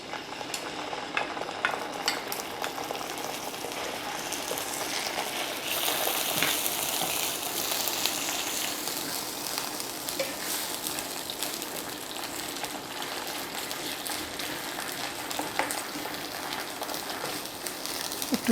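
Onion paste sizzles and fries in a pan for a mustard hilsa curry, a steady close hiss with occasional stirring scrapes and no talking.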